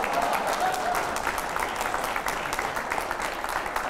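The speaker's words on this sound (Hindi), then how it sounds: "अगला, तालियां थोड़ी कम पड़ चुकी हैं।" Studio audience clapping during a Hindi political debate show on Akhilesh Yadav, a moderate steady patter of many hands lasting a few seconds.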